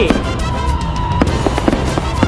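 Fireworks go off at a Loy Krathong festival by the water, a loud continuous barrage of crackling bursts and sharp pops over a dense rumbling roar, with distant crowd noise beneath.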